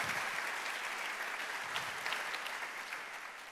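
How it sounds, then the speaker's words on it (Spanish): A church congregation applauds together, a dense sustained wash of many hands clapping at steady volume throughout, with no voices standing out. "¿Qué tal si damos un fuerte aplauso al Señor en respuesta a que Dios nos está llamando?"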